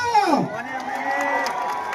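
A crowd cheers and applauds at a tea shop opening, with a rising and falling whoop carrying over steady clapping and chatter.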